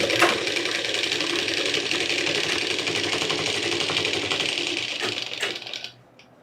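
A sewing machine runs a continuous fast rattling stitch along the sleeve of a Pathani kurta, close and steady for several seconds before slowing with a couple of clicks and stopping.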